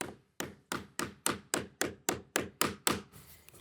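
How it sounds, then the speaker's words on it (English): The soft red face of a two-sided mallet taps on fascia board mounted on deck beams, giving about eleven evenly spaced, firm thuds, close and clear with no talk. "I'll use the red side to tap on this"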